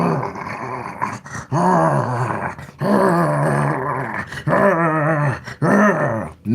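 A voice imitating a growling wolf baring its teeth, a loud, sustained, rough rumbling snarl repeated in several long bursts with brief breaks, close to the mic and alone.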